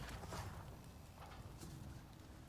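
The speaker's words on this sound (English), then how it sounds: "A dire horse." A dire horse in a video game galloping, its hoofbeats faint and soft in a steady clip-clop beneath low background ambience.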